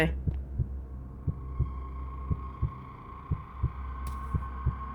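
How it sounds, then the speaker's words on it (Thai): In the Roblox horror game The Cinema Experience, a heartbeat thumps in a regular double-beat rhythm over a low steady hum, with a brief sharp hiss near the end. "เสียงหัวใจยังไม่หยุดเต้น"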